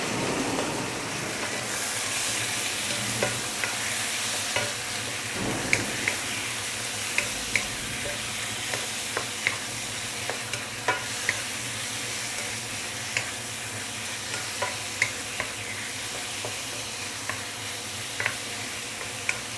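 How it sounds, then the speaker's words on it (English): Chicken pieces sizzle and fry in a pan with browned garlic for a ginger chicken stew, a steady close crackling hiss with occasional sharper pops and stirring scrapes throughout, no talking. "I like all this sizzling sound."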